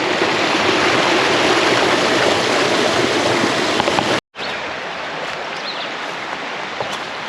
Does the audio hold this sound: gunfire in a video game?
no